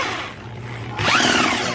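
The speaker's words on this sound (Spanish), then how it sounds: "Usa ese cubo para darle con un taladro." A power drill spins a scooter part through a socket, first a softer steady whir, then a sharp jump to louder, higher revving with a rising whine, close and alone.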